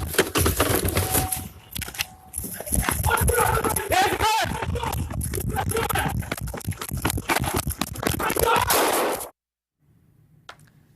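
Police fire on a fleeing burglary suspect in Nevada: a dense burst of rapid sharp gunshots cracking over shouting and commotion, lasting several seconds before an abrupt silence.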